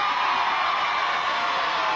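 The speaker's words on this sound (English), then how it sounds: "every time he hooks one on, a cheer goes up." A large outdoor crowd at a 1981 team games contest cheers steadily as a competitor hooks items onto a target, a continuous distant roar with no clear breaks.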